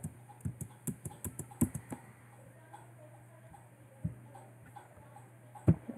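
Keys on a computer keyboard clack in a quick burst of taps while working in a spreadsheet, then a few isolated presses follow after a pause, close and fairly quiet over a steady low hum.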